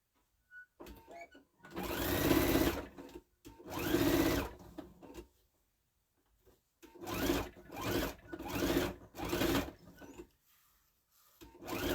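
Sewing machine stitching binding onto a scalloped fabric bag, running in several bursts of a second or two each, separated by short pauses, close and clear with no talking.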